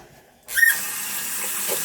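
Tap water suddenly gushes into a sink after near silence, a brief squeal at the start, then a steady hiss of running water while hands are washed.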